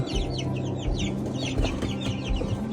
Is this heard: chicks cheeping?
yes